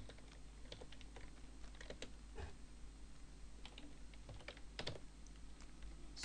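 Typing a command into Terminal on a computer keyboard, quiet close key clicks in irregular bursts over a faint steady hum.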